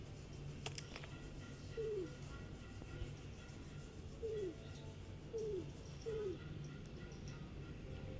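Pigeons in the mobile puzzle game Starstruck Adventure Escape give four short, soft descending coos spaced a second or more apart over a faint low electronic hum.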